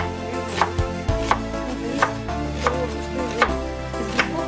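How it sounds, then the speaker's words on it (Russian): A knife chops boiled mushrooms into coarse pieces on a board, each stroke a sharp, close tap spaced about every half second with steady rhythm and no talk. "Я сейчас режу покрупнее."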